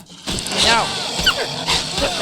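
A dog in the medieval survival game Medieval Dynasty gives a few close yips and whimpering barks, overlapping with someone talking.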